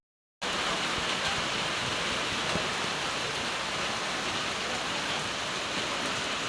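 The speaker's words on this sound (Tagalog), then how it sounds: "Gaulan guys." Steady rain falls without pause at a rural Philippine farmyard, a dense, even hiss that begins abruptly and continues unbroken at constant loudness, with no voices over it.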